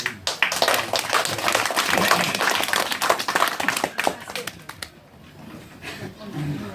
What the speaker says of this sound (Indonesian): saya mohon kita semua untuk tepuk tangan